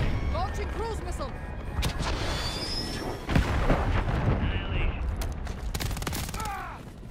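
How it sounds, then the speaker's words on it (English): Cruise missile launch and blast in Call of Duty: Modern Warfare 3 (2023), heard as a loud sustained roar of gunfire and explosions, with a heavy boom around the middle and crackling bursts, under radio-style voices. "Launching cruise missile!"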